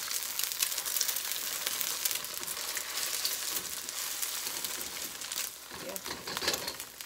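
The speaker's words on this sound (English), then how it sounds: "We're going to let it fry a little bit." An egg fries in a hot wok for shrimp fried rice, giving a steady bright crackling sizzle close by that softens slightly near the end.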